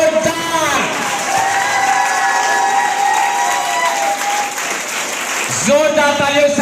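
Loud audience clapping and some cheering welcome Santosh sir at a product training session, a continuous burst of hands with voices and tonal sounds at the start and end.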